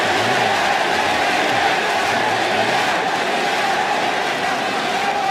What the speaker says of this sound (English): The crowd are very much behind Just listen to this.